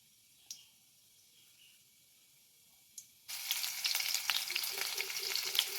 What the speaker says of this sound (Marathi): तेल गरम झाल्यावर जिरं मोहरी टाकून घ्या.